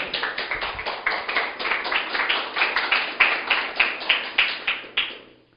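A congregation at a Spanish-language church sermon breaks into rhythmic applause, steady clapping swelling into rounded beats before fading out, with no voices over it.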